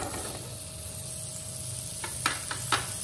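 Chopped onion pieces frying in oil in a pan, a steady sizzle throughout with a few brief louder crackles and stirring bursts near the end.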